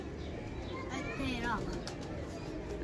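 Pigeon cooing in a loft during hot summer weather, a soft rising coo heard faintly amid steady background noise, with someone talking nearby.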